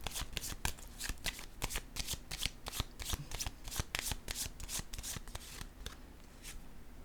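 Tarot cards shuffled quickly by hand, a rapid run of crisp riffling flicks, close but soft and steady, thinning out toward the end, with no talking.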